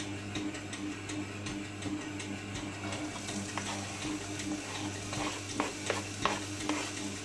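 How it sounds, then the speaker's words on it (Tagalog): Onion and garlic sauté together in hot cooking oil, a steady close sizzle running throughout with a few sharper crackles and spatters toward the end; no one speaks. "So, mainit na ang mantika, gisahin na natin."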